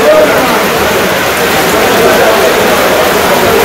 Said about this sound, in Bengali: পুরাই বৃষ্টি নেমে গেছে একদম